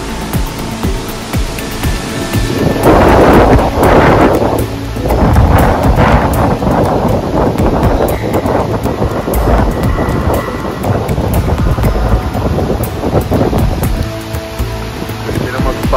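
Heavy typhoon rain from Typhoon Kristine in Bicol pours steadily while gusts of wind buffet the microphone in loud, rushing swells, with a voice faintly under the roar.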